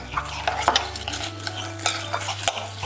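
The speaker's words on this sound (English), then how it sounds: "making sure that melts into the crushed biscuits, ready to go in the base of the tin" A spoon stirring melted butter through crushed biscuits in a bowl for a Biscoff cheesecake base, giving repeated scraping clinks against the dish with a faint background hum.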